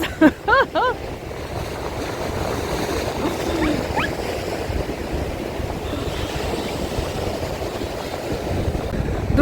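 Steady rushing Black Sea surf at Lanzheron beach, Odesa, and wind noise roll on throughout, with a few sharp gull calls near the start.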